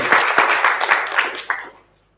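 Audience applause at a sommelier competition, a loud burst of many hands clapping that fades out over about two seconds, alone without talk.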